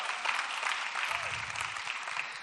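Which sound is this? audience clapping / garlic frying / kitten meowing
audience clapping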